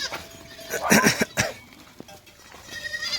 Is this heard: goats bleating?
yes